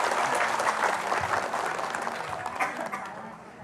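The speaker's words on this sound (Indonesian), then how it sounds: "Boleh tepuk tangan deh buat Bu Mas Ria." A studio audience on an Indonesian TV show applauds steadily, a dense wash of clapping that stays loud then gradually thins toward the end, with a faint voice underneath.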